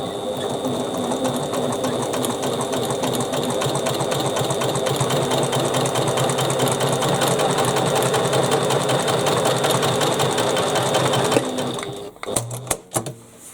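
A sewing machine runs steadily, top stitching a bag for about eleven seconds in a fast, even mechanical whir, close and loud, then stops with a few clicks and handling sounds.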